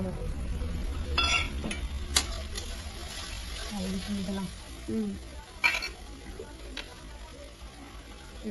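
Spice paste of ground cumin, coriander, dried chilli, ginger and cashew fried with tomatoes in a pan for paneer biryani, giving a steady low sizzle with occasional scraping and clinks of a stirring spoon, while a person talks over it.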